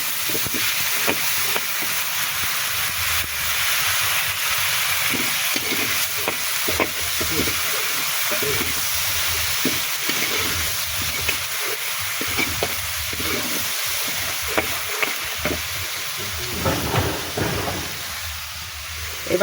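Fish curry sizzles loudly in a pan as water hits the hot spices, with a steady hiss and frequent scraping stir strokes throughout.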